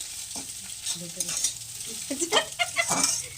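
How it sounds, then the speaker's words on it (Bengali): Potatoes sizzling and frying in a pan with salt added, a utensil stirring and scraping in repeated close strokes over a steady hiss, with faint voices nearby. "এখন আলু ভাজার পরে নুন দিচ্ছে"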